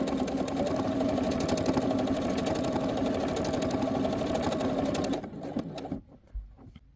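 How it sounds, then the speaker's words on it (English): Sewing machine stitching a seam in fabric, a steady rapid whirring run for about five seconds that stops abruptly, then a few faint handling clicks near the machine. "So you're going to sew the rest of the way forward, all the way to the edge of your fabric"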